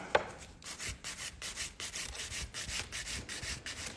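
A nail file rasps back and forth across long nails in a steady rhythm of about a dozen close, dry strokes, with no talking over it.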